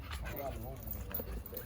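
A bandog whimpers with thin, wavering whines close by, partly under a murmur of human voices and steady low background noise.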